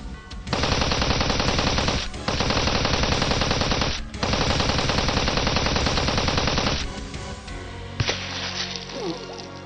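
Bursts of rapid automatic gunfire in the video game Steins;Gate 0, three long sustained volleys separated by short gaps, loud and close, followed by a quieter stretch with a single sharp report.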